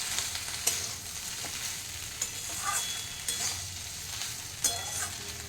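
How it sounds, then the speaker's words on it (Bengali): Okra and green chillies fry quietly in a pan, a soft steady sizzle broken by occasional light scrapes and taps of a stirring spoon. "এবার এটাকেও 2 মিনিট একটু নাড়িয়ে চাড়িয়ে দিলাম।"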